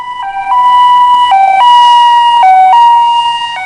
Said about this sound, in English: the pitch of the car's siren gets higher as it approaches because the intervals between the arriving wavefronts are shortened